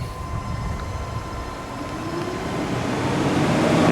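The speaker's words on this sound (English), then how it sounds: "That sounds more like a fan that's running right now" The cooling fan of a 2021 Ford F150 King Ranch hybrid truck runs as a steady, broad whooshing hum that slowly swells louder, with a faint tonal whine and no speech.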